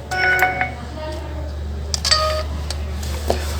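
A mobile phone ringtone plays during a ringer repair test, with short electronic beeping tones in a few bursts, moderately loud and close, alongside faint handling clicks.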